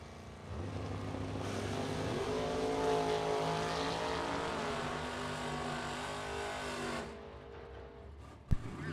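A Ford Mustang and a Chevy Camaro launch in a drag race, their engines roaring loudly and steadily with rising gear-driven pitch for several seconds before cutting off abruptly, followed by a sharp click.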